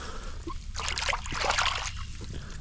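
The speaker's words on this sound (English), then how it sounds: "it looks like there's some water moving" Water trickling and splashing from a drainage outlet outdoors, a close bubbling, sputtering flow that swells in the middle and eases off, with no talking.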